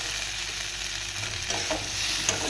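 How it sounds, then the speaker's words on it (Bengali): Ginger paste fries in a pan for a shukto dish, a steady close sizzle with scraping stirs growing slightly louder toward the end, without any talking. "এবার দেখো এটা ভাজা ভাজা হয়ে গেছে ভালো করে"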